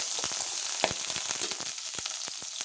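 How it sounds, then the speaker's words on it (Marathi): Ginger-garlic paste frying in a little oil for paneer bhurji, a soft, steady sizzle with scattered crackles and pops throughout, fairly quiet and close with no voices. "थोड्या तेलामध्ये आपण अदरक लसणाची पेस्ट आपण घेऊया"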